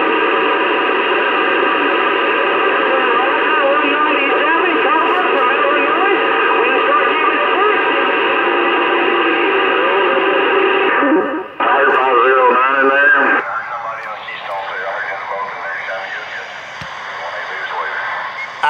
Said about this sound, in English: what you're hearing is my headphones on my monitor radio